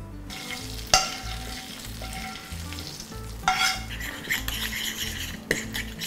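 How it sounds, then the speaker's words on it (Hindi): Hot tadka tempering being stirred into mayonnaise in a bowl, a spoon scraping and clinking rhythmically against the bowl amid a steady sizzle, close and fairly quiet with a few sharper knocks. "ये लो जी, तड़के को कर दिया मेयोनेज़ में मिक्स।"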